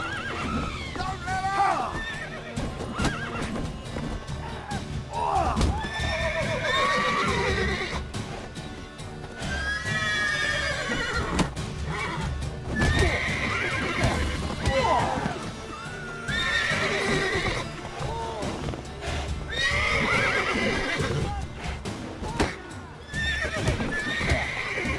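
Roach, Geralt's horse in The Witcher 3 video game, neighs and whinnies repeatedly as hooves clip-clop beneath steady game music and ambience, with voices talking over parts of it.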